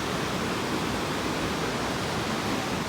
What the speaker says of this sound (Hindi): पानी की आवाज़ देखो कितनी है,